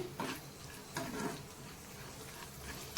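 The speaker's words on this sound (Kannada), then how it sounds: "ಇದನ್ನು ತುಪ್ಪದಲ್ಲಿ ಫ್ರೈ ಮಾಡ್ಕೋಬೇಕಾಗತ್ತೆ ಚೆನ್ನಾಗಿ ಈ ಥರ ನಾವು ಫ್ರೈ ಮಾಡ್ಕೋಬೇಕಾಗತ್ತೆ" Raisins frying in ghee for apple kheer: a dense, close crackling sizzle with a few stirring bursts over about three seconds, no voices.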